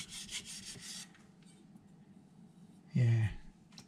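A carbon steel knife is drawn across a Miyagoshi whetstone in several quick rasping strokes. A quiet pause follows, then a short, louder low burst near the end.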